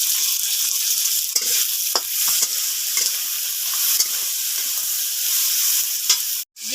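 Spices sizzle in hot oil with salt and turmeric powder added. The frying hiss is loud and continuous, broken by scattered stirring clicks and scrapes, with a brief dropout near the end.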